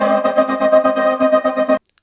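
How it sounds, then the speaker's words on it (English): A synth lead in an electronic music mix, a bright, buzzy sustained tone pulsing rhythmically in quick repeated swells, loud and upfront, cutting off cleanly after under two seconds with no speech. "So this lead sound sounds like this."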